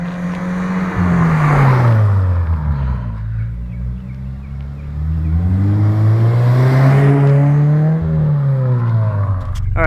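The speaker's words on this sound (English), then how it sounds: "So let's take a few drive-by clips." A Subaru BRZ fitted with an Invidia N1 exhaust drives past, its engine note climbing and falling through two loud revving passes with a steady rumbling drone underneath.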